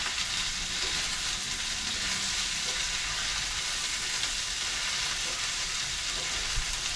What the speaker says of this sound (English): allow these onions to sweat down a bit before we basically go to the final phase